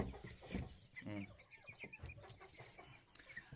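Broiler chickens in a coop cluck and murmur close by, with scattered short calls and chattering bursts over a low background.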